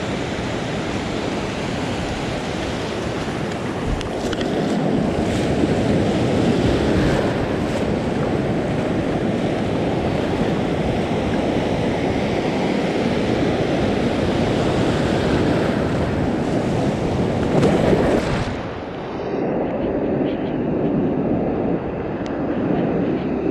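Ocean waves break steadily on a surf coast beach during saltwater fly fishing, a loud continuous wash of surf with wind noise on the microphone and one heavier surge near the end.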